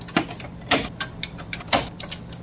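A printer's head carriage moves back and forth searching for position during a repair, giving a run of close mechanical clacks and whirring bursts in an uneven rhythm, with no talk over it.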